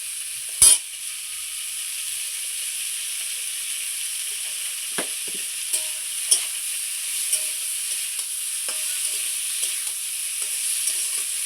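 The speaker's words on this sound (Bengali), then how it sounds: "কত সুন্দর পটলটা দেখুন ভাজে নিচ্ছি, কত সুন্দর করে ভাজা হয়ে যাচ্ছে আমার পটলটা।" Pointed gourd fries in a pan with turmeric powder, a steady broadband sizzle running throughout with a sharp clank near the start and occasional light scrapes of stirring.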